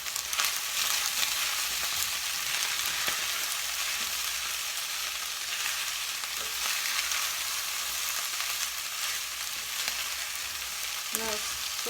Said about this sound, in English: Give this another stir.